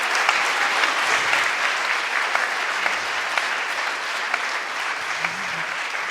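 An audience at a startup pitching competition applauds continuously, a steady wash of many hands clapping at close range with a few sharper individual claps standing out.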